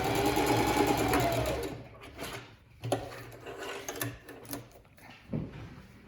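A sewing machine stitches forwards, backwards and forwards again on fabric lining, with a close, fast mechanical whirr at first, then shorter bursts of stitching and clicks.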